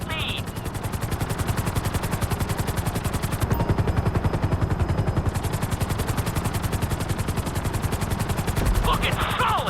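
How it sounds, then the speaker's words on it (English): A helicopter in Grand Theft Auto V on PS5 beats with a fast, steady rotor chop throughout, joined by game effects and a brief hiss partway through. "we'll see how well you handle the chopper"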